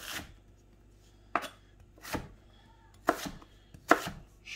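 A knife chops sweet potato for an African-style stew in five sharp, separate strikes on a board, spaced unevenly with quiet gaps between them, close and clear.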